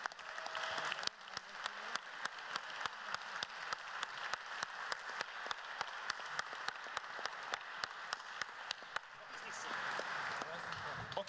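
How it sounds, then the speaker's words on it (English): A live audience at a quantum community meeting in Vienna gives a sustained round of applause, dense steady clapping filling the room for about eleven seconds before thinning slightly near the end. "please give him a huge round of applause"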